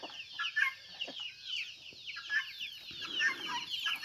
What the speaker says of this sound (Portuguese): jogar um milho aqui pra essas galinhas